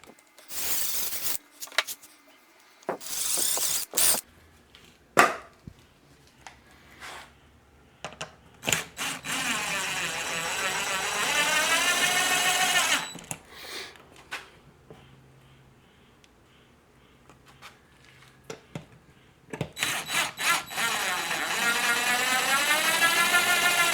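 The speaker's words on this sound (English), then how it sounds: "I'm just going to drill 2 here and put it in without anchors" A power drill whines in two long sustained bursts, rising in pitch as it bites into a wall, separated by clatters, taps and handling knocks.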